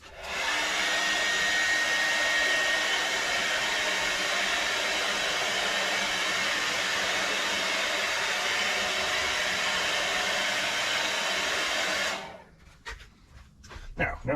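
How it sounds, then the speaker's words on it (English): A hair dryer warming a part during a BSA Star Fire 250 motorcycle rebuild blows with a loud, steady whoosh for about twelve seconds, then cuts off, leaving a few quiet workshop knocks. "Gonna keep the hairdryer over here."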